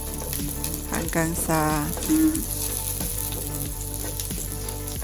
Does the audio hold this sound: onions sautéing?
yes